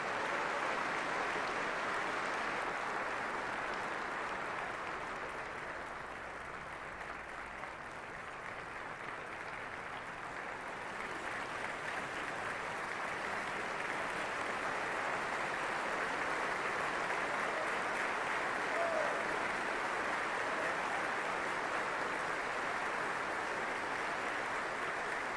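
A large audience claps for outstanding non-commissioned officers at a military gathering in Alaska, a broad sustained wash of applause heard from some distance, even and unbroken for the whole stretch.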